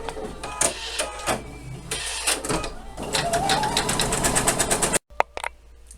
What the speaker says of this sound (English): So go ahead and stitch that out.